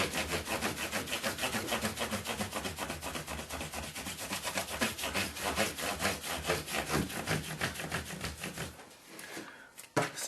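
Frets on a left-handed Fender Jazz Bass are sanded with 8000 grit abrasive in quick, steady back-and-forth scratchy strokes, close up, that slow and stop near the end.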